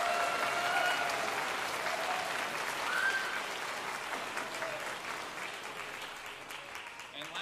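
A concert audience at a music department performance applauds steadily for several seconds, dense clapping that fades slightly toward the end, with a few faint voices mixed in.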